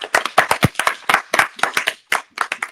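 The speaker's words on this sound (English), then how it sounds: "Let's clap for each other." A small group claps for each other, a few close hands striking in a quick, uneven patter of separate claps with short gaps, no voices over it.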